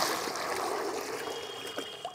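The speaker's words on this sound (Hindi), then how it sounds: "तो चलिए पहले मैं पानी इसमें डाल देता हूँ" Water trickles and splashes steadily into a container for a simple science experiment, a close, continuous pouring sound at low level with no talking.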